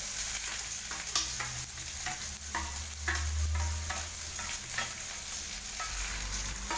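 Onion, green chili and curry leaves sauté in a pan with continuous close sizzling, broken by repeated scraping and stirring strokes at an uneven rhythm.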